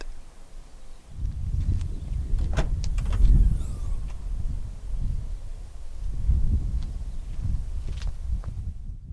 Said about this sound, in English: To open up the rear hatch, use the touchpad just above the rear number plate.